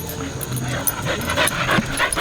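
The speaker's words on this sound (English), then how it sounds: "This dog grew up on the streets" A street dog makes short whimpering and yipping sounds close by, with some panting, amid busy outdoor background noise and occasional voices.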